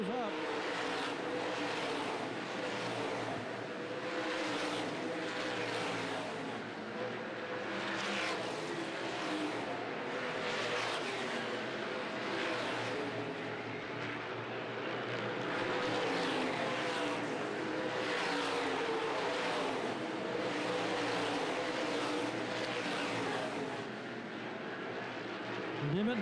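Modified race cars racing at Winchester Speedway, a steady loud engine roar that swells and fades as the pack passes repeatedly, with an announcer talking over it.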